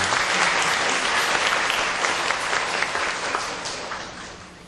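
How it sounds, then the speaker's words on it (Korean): Applause from a church congregation at a Sunday worship service, a full, dense wash of clapping that starts loud and gradually fades toward the end. "다시 한번 축복의 박수 보냈으면 좋겠습니다."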